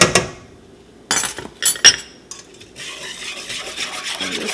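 Homemade vanilla natilla custard being stirred in a pot over medium-low heat, with a few sharp clinks and scrapes of a utensil against the pot around the middle, then a steady soft rasping stir continuing to the end.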